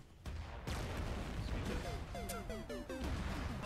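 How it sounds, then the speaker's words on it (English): Explosive artillery bombardment in the military game Arma 3 (Halo mod), a loud sustained rumble of blasts and crashes with synthetic game tones layered on top, heard over continuous voices talking. "Their compound is being bombarded."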